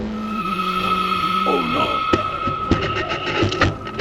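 A race car skids on a speedway track to avoid a deer crossing, a long tire squeal over a steady engine drone with sharp bumps and a clattering burst near the end, loud and close.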